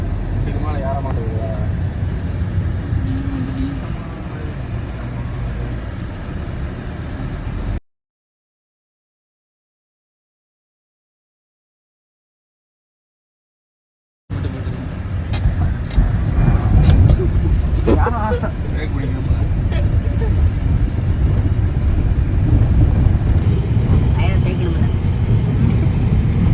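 Honda WR-V car driving on a road test after service work, a steady low engine and road rumble continuing throughout with people talking over it, broken by a gap of silence midway.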